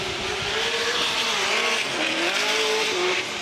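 A drift car on Falcon tires screams through a loop section at a drifting qualifying event, the engine note wavering at high revs with tire squeal and skid noise, loud and continuous without talk.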